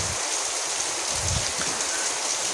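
Very heavy rain pouring over a village, a dense steady hiss of downpour on surfaces with no voices, loud and close for the whole stretch.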